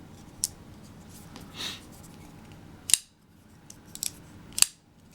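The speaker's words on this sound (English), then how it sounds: "Can I come forward with the index finger to cut tape holding the box together?" A Benchmade 707 Sequel pocket knife slicing through packing tape on a cardboard box, several short, crisp cutting snaps spread over a few seconds, close and fairly quiet against a hushed background.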